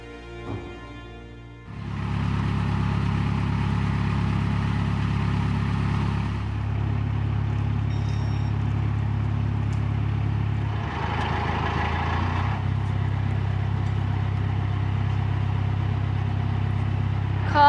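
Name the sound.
cars driving past near swing bridge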